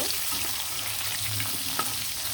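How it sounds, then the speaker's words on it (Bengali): Shing fish fry in a pan of hot oil, giving a close, steady sizzle and crackle with a faint stir near the end. "মাছগুলো কিন্তু খুব ভালোভাবে ভাজা ভাজা করে নিব"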